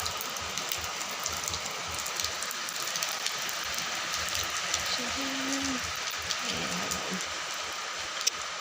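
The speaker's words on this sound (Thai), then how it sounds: "ฝนตก" Steady rain falling on surfaces outdoors, a constant hiss of drops throughout, with a faint low hum briefly rising in the middle.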